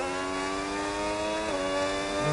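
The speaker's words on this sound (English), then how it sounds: "Oh, that sound of the Red Bull is so good." Red Bull racing car in a sim racing game at the Canada round, its engine holding a loud steady high-pitched whine with a brief dip and recovery in pitch.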